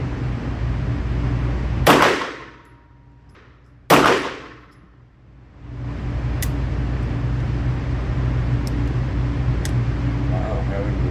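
Two sharp pistol shots about two seconds apart at a gun range during a three-gun comparison of SAR K12 Sport, Staccato P and Bul Armory SAS II Govt handguns, each loud crack decaying quickly, over steady background noise.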